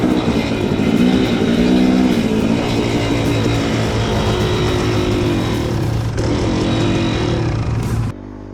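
A dirt bike engine drones loud and close as the rider climbs a hill in Moab, Utah, with one footpeg broken, holding a steady high-revving roar that wavers slightly before cutting off abruptly near the end.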